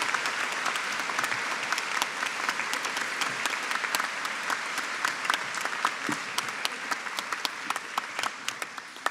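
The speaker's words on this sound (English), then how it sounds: "We might have a big round of applause for all our BA Early Childhood graduates today." Sustained round of applause for BA Early Childhood graduates at a university graduation ceremony, a dense, steady clatter of many hands with sharp individual claps standing out, holding at an even level for several seconds.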